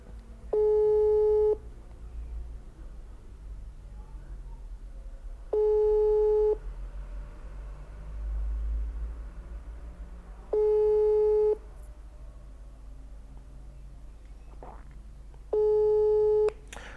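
An unanswered phone call rings out as a steady tone in four evenly spaced one-second bursts roughly five seconds apart, with faint background noise between them.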